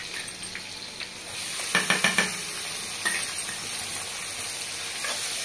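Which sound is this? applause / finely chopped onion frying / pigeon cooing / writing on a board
finely chopped onion frying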